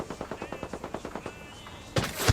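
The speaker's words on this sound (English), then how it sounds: "Target acquired. I'm opening fire." Automatic gunfire in Ghost Recon Wildlands rattles off as a fast, even string of about a dozen shots at moderate distance, followed by a louder, sharper blast of fire at the end.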